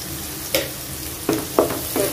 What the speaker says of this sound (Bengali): আর এই চুলায় মশলাটা কষিয়ে নিচ্ছি